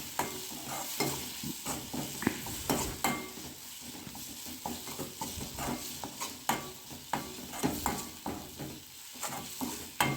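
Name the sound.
stirring sugar into curry leaf thokku in a pan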